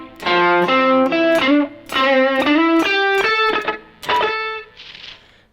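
Electric guitar played through a Chroma Console pedal set to doubler, reverb and overdrive, a loud, close melodic phrase of sustained, slightly gritty notes in a few bursts, with a reverb tail fading at the end and no talking.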